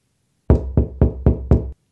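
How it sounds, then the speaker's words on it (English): Five firm knocks on a wooden door come in an even, quick rhythm, loud and close, with silence before and after. "The old man heard the knock on his door"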